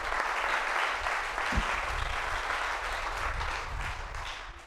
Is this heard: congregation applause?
yes